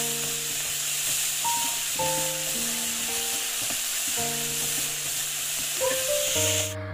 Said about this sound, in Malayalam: അപ്പോൾ നന്നായി വഴറ്റിയെടുക്കുക.